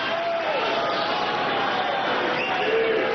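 Spectators at the 2002 San Jose tennis final between Agassi and Hewitt keep up a steady, moderately loud murmur and cheer, with a faint whistle or call threading through the noise.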